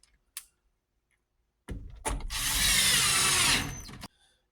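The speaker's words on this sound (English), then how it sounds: "Let's take those 2 8mm nuts, bolts, put them back in." A ratchet tightens 8mm bolts on a Ford F-series truck door during a window regulator replacement, a brief click, then a couple of seconds of loud, close whirring and rattling before it stops abruptly.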